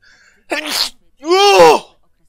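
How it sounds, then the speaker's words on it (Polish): A single loud, close sneeze sounds out with a sharp intake and explosive burst, alone in an otherwise quiet moment. "Przepraszam wszystkich za to kichnięcie."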